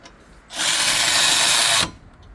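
A power tool spins wheel nuts onto a 2020 Hyundai Kona during brake work, one loud, steady whir of just over a second that cuts off sharply, with quiet before and after.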